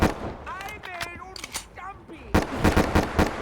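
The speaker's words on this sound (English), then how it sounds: "I just killed that guy with the starting pistol." Starting pistol shots in Call of Duty Black Ops 3 Zombies, a burst of sharp gunfire cracks near the start and again at the end, with game music and voices mixed between them.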